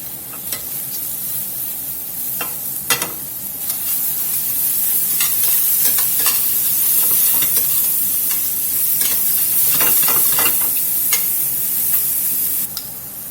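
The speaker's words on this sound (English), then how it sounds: "Let's get us some mushroom sautéed, put on top of this Swiss" Mushrooms sautéing in a hot pan with salt and pepper, for a bacon mushroom Swiss loaf: a loud, steady sizzle with frequent sharp scrapes and clicks of stirring throughout, no voices.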